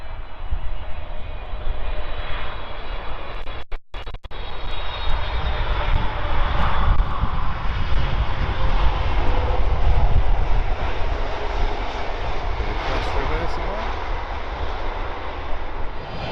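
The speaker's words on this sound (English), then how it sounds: "It's LATAM's big Boeing 777-300, and that has come all the way from Sao Paulo." LATAM Boeing 777-300 jet airliner in from Sao Paulo at London Heathrow, engines giving a loud, steady, close roar that holds throughout with a brief dip near the start.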